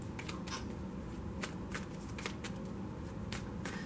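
A tarot card deck is shuffled briefly and close by, giving rapid papery riffles and soft clicks over a low hum. It is quiet and unaccompanied by talk.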